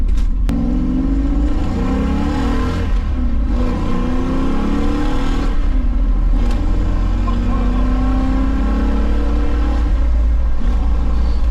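A 1969 Ford Mustang Fastback's big 300-horsepower engine rumbles loudly up close, its deep growl rising and falling in pitch as it revs repeatedly.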